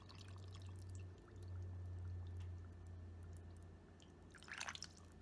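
Water is poured into a cashew cheese mixture thickened with cornstarch, heard as a faint splashing gush near the end after quiet room noise with a low hum.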